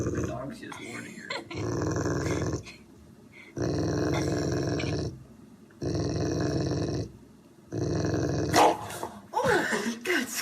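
A dog growls at a nearby cat in long, low rumbling bursts, four in a row separated by short pauses, close by, ending with some scuffling and a brief yelp.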